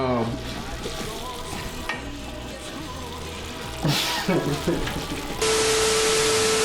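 Ground meat for chili sizzles and fries steadily in a hot pan, a loud continuous crackle close up, with brief stirring sounds partway through and a sharp change to a harsher hiss near the end.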